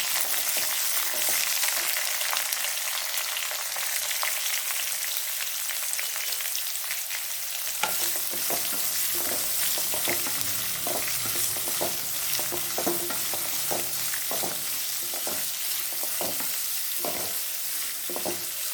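Sliced onions frying in a pan for potato masala, a constant bright sizzle that starts alone and then carries repeated spatula scrapes and taps as the onions are stirred.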